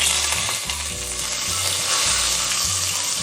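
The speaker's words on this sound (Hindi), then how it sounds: "इसको हम इतना प्याज को फ्राई करेंगे ये हल्की से पिंक हो जाए" Onion with cinnamon, bay leaf, green cardamom and cloves frying in hot ghee, a loud, steady, dense sizzle close up with occasional stirring.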